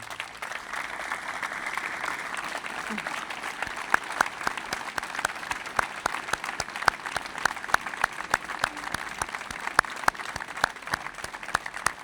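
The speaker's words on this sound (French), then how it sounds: "je voudrais qu'ils aient un applaudissement collectif de l'ensemble d'entre vous" Collective applause for firefighters at a gathering of young sapeurs-pompiers, steady crisp clapping from a large group continuing evenly throughout, with sharp individual claps standing out near the microphone.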